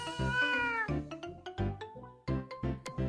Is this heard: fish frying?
no